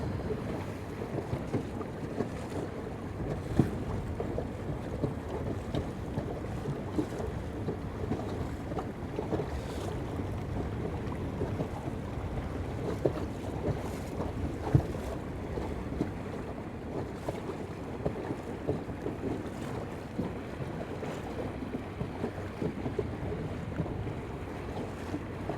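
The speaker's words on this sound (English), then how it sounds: "Here, this is the Navy boats." Navy boats sit out on open water, heard as a faint, steady wash of waves and wind buffeting the microphone, with occasional small knocks and no voices over the long stretch.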